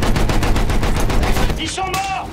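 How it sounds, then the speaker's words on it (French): Rapid machine gun fire in the World War I shooter Battlefield 1, loud and continuous for about a second and a half, then easing off as a voice briefly speaks. "Ces mitrailleuses empêchent nos gars d'avancer."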